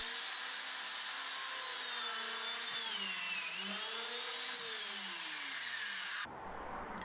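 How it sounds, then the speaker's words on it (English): A dowel joiner drills holes for dowels in an old door being made into a bench, giving a steady high whine that wavers slightly in pitch before cutting off abruptly near the end. "I could then go back with the dowel joiner and drill out all the holes ready for the dowels"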